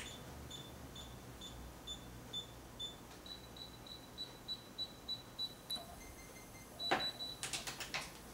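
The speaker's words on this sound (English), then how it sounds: "the screen has turned green and gave me a positive beep letting me know that we are where we're supposed" A Desoutter DWTA Vision digital torque and angle wrench gives a series of short, evenly spaced high electronic beeps at its target angle, ending in a brighter burst of clicks, all fairly quiet over a low background hum.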